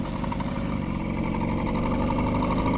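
A motorized bike engine running hard near its 6,000 RPM peak, a continuous loud buzzy drone with steady pulsing exhaust throb, close up and unbroken for the whole stretch with no talking.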